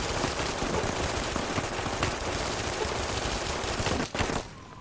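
Gunfire in Fallout New Vegas during the final battle at Hoover Dam: dense, nonstop rapid shooting, loud and close, breaking off abruptly near the end.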